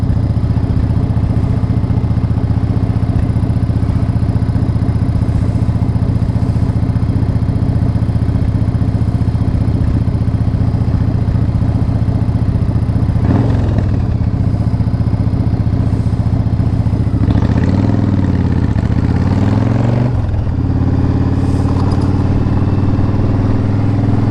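A motorcycle rides at night through the city streets of Providence, its engine droning steadily and loudly throughout, with a couple of brief revving swells and passing traffic noise partway through.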